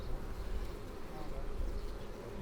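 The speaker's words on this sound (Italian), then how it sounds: "Adesso si sente già la famiglia che fa rumore" Honeybee colony buzzing loudly inside a hive, a dense steady drone close to the ear, continuous and unbroken throughout without any talk.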